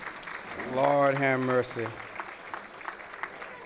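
Light applause from a church-style audience at an NAACP branch anniversary celebration, scattered hand claps under a man's exclamation and continuing faintly after his voice fades.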